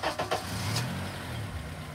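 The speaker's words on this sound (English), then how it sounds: "start the car" A Honda car engine cranks briefly and catches, then settles into a steady low running rumble close by, with no talking.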